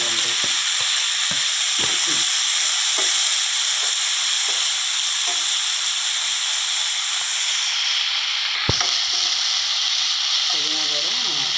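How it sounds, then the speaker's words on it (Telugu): Fresh mint leaves fry in hot oil with a loud, constant sizzling hiss. Occasional clicks of stirring cut through, and someone talks over the frying. "పుదీనా కూడా నూనెలో వేయించుకోవాలండి"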